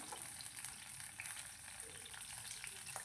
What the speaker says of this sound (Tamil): இது கூடவே நம்ம இஞ்சி சேர்த்துட்டு இப்போ இது எல்லாமே நம்ம நல்லா வதக்கி விட்டோம்னா பச்சை மிளகாய் நல்லா வதங்கணும்